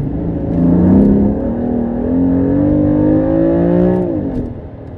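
A 550 HP BMW M4 with a manual gearbox revs its engine up and down, a loud, close, continuous rising and falling drone with no talking.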